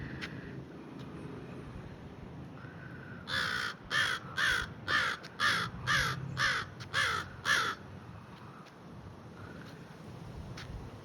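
Crows caw outdoors on a nature walk, a run of about nine loud, evenly spaced harsh calls in a steady rhythm, with faint wind and distant traffic around them.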